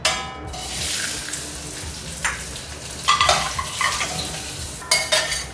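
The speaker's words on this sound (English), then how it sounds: "When the wok is hot, add the mushrooms." Mushrooms sauteing in oil in a hot wok: a steady close sizzle with occasional stirring scrapes and clanks over it, no voices.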